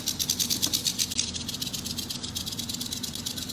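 A large handheld rattle is shaken to mimic a rattlesnake's rattle, producing a steady, close, dry buzzing whir that carries on with no talking.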